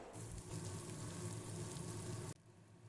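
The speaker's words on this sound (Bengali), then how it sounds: "তেলের মধ্যে পেঁয়াজটাকে ভেজে নিতে হবে, বারবার নাড়তে হবে, নেড়ে নেড়ে ভেজে নিতে হবে।" Onions frying in oil in a pan while being stirred, a soft continuous hiss of frying that cuts off abruptly near the end, faint and unaccompanied.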